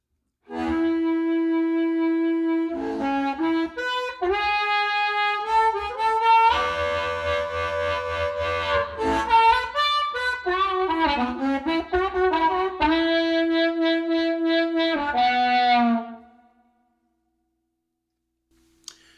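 A sustained harmonica melody through a subtly set chorus pedal, with bright, wavering tones and a gentle shimmering modulation, playing alone for about fifteen seconds before fading out.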